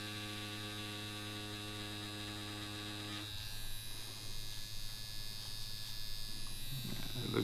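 A Yilong F5 wireless tattoo pen set slow at 8.5 volts gives a steady electric hum and buzz. Partway through, the tone turns rougher and more broadband, with a little handling noise near the end.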